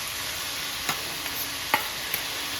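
Chopped tomatoes hit a pan of frying onions and are stirred, with a steady sizzle and a few sharp clicks of the spoon against the pan.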